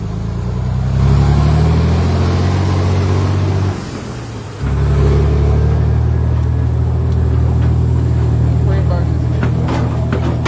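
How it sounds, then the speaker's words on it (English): Cars and trucks drive over the wooden boards of a free bridge in Linden, giving a continuous low rumble and engine drone that dips briefly midway and then resumes, with distant higher whines. "Same boards these cars are driving on right now."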